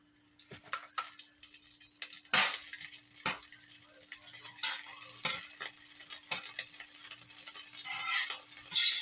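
Butter sizzling in a frying pan before an egg goes in for a ham, egg and cheese breakfast sandwich, a soft steady crackle broken by sharp clicks and scrapes of a utensil against the pan.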